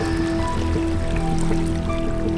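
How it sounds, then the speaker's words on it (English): The Ural river carries its water along unhurriedly, a steady broadband rush and trickle that stays constant and fairly loud throughout, with no voices. "Ural is keeping silence and unhurriedly carries its waters."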